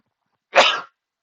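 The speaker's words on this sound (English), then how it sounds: "Sneeze. Those onions earlier really got me." A single sharp human sneeze, close and loud, standing alone in otherwise quiet surroundings while someone cooks Haitian fried breadfruit balls with onions and celery.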